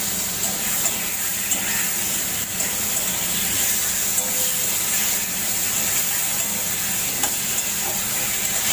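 Cumin, coriander, green chili, ginger paste and turmeric fry in hot oil in a pan, a steady close sizzle and hiss running continuously with faint stirring scrapes underneath.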